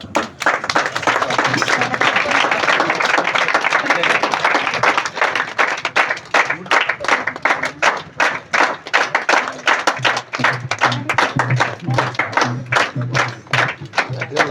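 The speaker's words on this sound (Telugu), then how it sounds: "ఎరువురు కట్ చేస్తూ ఉన్నప్పుడు చప్పట్లు కొడుతూ" A group claps and applauds during a ribbon cutting at a church pastor's housewarming ceremony, loud and sustained, with dense hand claps that thin into a steadier rhythm toward the end, while voices talk underneath.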